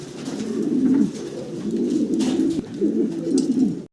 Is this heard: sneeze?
no